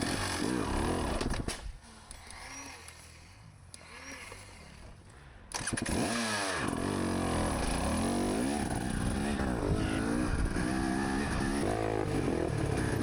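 Dirt bike engine during a harescramble race, loud and continuous, with a lower, throttled-back stretch before it surges again under constant riding noise.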